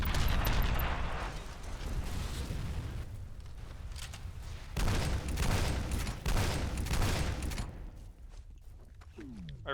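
Rocket and gun explosions in the shooter F.E.A.R. come as a run of heavy booming blasts and bursts, loud and dense through most of the stretch, fading into quieter rumble near the end.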